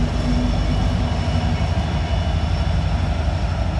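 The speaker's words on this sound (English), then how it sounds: "Here's our helper locomotives, 3 of them." Three SD70 helper locomotives hold back a heavy coal train easing downhill on Horseshoe Curve toward Altoona, Pennsylvania, giving a steady, loud, close diesel rumble with a constant low drone and no voices.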